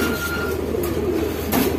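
White Jacobin pigeons in cages give low, steady cooing close by, a continuous soft murmur with a few brighter sounds over the top.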